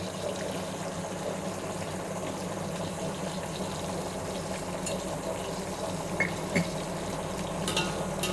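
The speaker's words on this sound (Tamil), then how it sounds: "நல்லா வெங்காயம் வதங்கி ப்ரௌன் கலரில் இருக்கணும்." Onions frying in oil with a little salt for chicken biryani give a steady, even sizzle that hisses without a break throughout, with a brief clink near the end.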